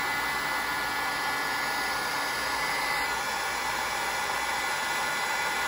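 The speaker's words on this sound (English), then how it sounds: "I'm just gonna take my heat gun" A heat gun blows a steady, loud, close whoosh of hot air onto embossing powder on a handmade card, holding unbroken for several seconds with no talk.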